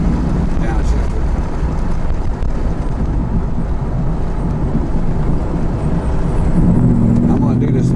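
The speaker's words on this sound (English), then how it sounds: "see if I can make the pipes blow a little bit for you" Car exhaust pipes blowing as the engine is downshifted in manual mode, a steady loud low rumble with wind and road noise throughout, swelling slightly near the end, while someone talks over it.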